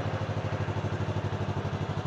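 A 2021 Can-Am Ryker 600 three-wheeler idles with a steady, low, rhythmic engine pulse, close and even throughout, with no talking.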